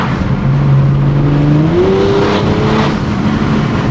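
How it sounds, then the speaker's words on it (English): A modified Audi S5's engine rises in pitch as it accelerates through gears, its exhaust droning loud and close under steady road and wind noise. "You can definitely hear the exhaust, which sounds really nice."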